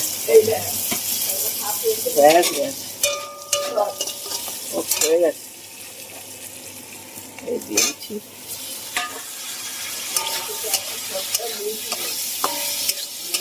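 Brinjal and potato fry in a pan, a soft sizzle under repeated scraping and stirring strokes of a spatula, with scattered clinks and a faint voice now and then.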